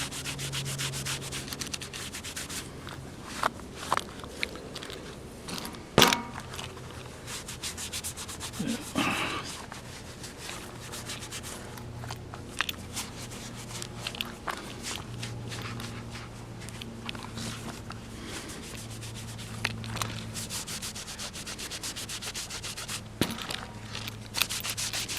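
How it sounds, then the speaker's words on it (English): Leather Birkenstock sandals rubbed with an old terry cloth, giving steady close scrubbing and swishing strokes with occasional light knocks. "Rub with this old terry cloth here."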